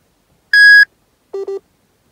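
A freight dispatch app's new-order alert: one sustained electronic beep followed by two quick lower beeps, clean and loud against silence.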